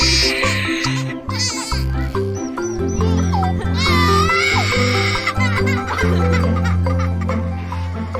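A little goat bleats in wavering cries while a baby plays with it, mixed with the baby's giggles and laughter up close throughout.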